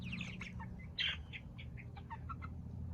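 Young meat-bird chickens chirping just outside their brooder, a scatter of close, high peeping calls repeating irregularly over a low steady background hum.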